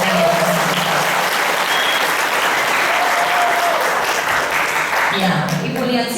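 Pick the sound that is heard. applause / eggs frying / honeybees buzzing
applause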